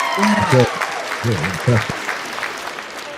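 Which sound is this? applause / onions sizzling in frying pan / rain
applause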